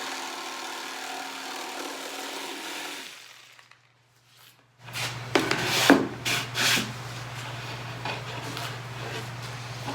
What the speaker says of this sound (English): this is my Ryobi Oscillating saw